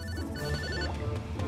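A telephone ringing in the video game Yooka-Laylee, steady repeating electronic ring tones layered over continuous game music and background sound, no voices.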